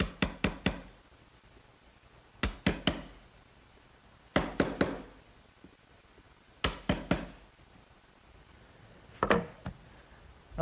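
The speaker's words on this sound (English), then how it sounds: "Now I'll just square off the corner that the router couldn't get to using a nice sharp chisel" Sharp chisel squaring off a wooden corner left by a router on a Shaker woodbox: clusters of two or three crisp, close knocks or taps, repeated in bursts every couple of seconds with quiet gaps between.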